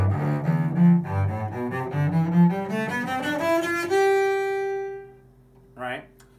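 A cello plays a rising run of bowed notes with a tense, locked wrist and raised shoulder, somewhat scratchy and uneven, ending on a held note, followed by a brief soft noise.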